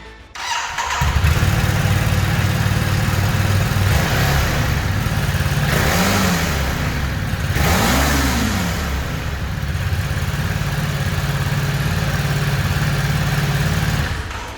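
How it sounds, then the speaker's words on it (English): A Ducati Desert X motorcycle starts up and idles with a deep, close exhaust burble, blipped through two quick revs that rise and fall before settling back to a steady idle. "The exhaust doesn't disappoint either."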